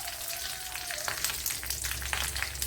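Bay leaf and cinnamon frying in oil for a quail egg roast, a soft, even, close sizzle with fine crackles, fairly quiet, with no voices.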